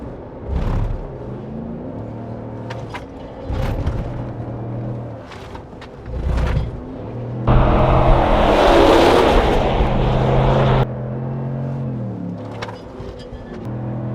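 A 400 hp RAM Rebel GT pickup drives hard on a track, its engine rumbling steadily with a louder, roaring surge in the middle and no one talking.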